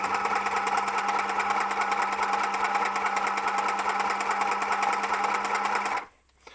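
A small electric motor on a 9-volt supply with a foot pedal runs unladen, giving a steady, close, buzzing whir with a fast rattle that holds evenly for about six seconds before cutting off.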